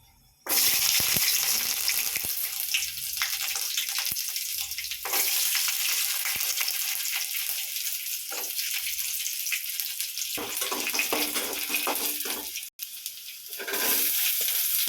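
Ginger and garlic fry in a pan, giving a loud, steady sizzle that runs almost the whole time, with brief dips and a short break near the end, and no talking.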